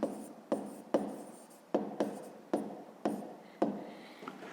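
Pen strokes writing out an answer to a fifth-grade maths exercise, a series of about eight sharp taps and scratches at a steady rhythm, close and clear with no talking.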